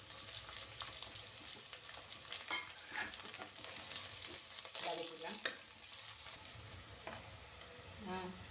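Onion, green chilli and garlic sauté in hot oil in a pan for a dry fish curry, a steady close sizzle with stirring scrapes and clinks throughout and faint speech in the background.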